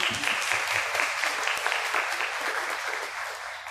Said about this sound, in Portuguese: Salve de palmas para a Marília cantor.